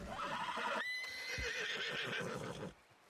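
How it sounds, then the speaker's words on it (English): A horse in the Red Dead Redemption 2 video game gives a loud, close neigh, with faint hoof clip-clops underneath. "The horse is still alive."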